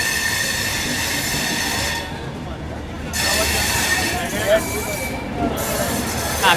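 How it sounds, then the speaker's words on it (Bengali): A train at Ringas railway station in Rajasthan gives a loud, continuous rumble of rolling wagons and wheels, rising and falling, with a faint metallic squeal late on. "আমি আছি এখন রিংগাছ স্টেশনে"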